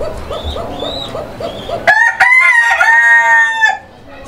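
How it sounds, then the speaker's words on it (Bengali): A rooster crows once, loud and close, in a long drawn-out call at a pigeon seller's loft, following a stretch of softer cooing and clucking from birds nearby. "মোরগ ডাকতে আছে"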